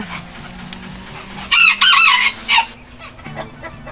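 A bantam rooster in Trang, Thailand crows once, loud and fairly close, the high strained call lasting about a second, with faint clucking and farmyard noise around it.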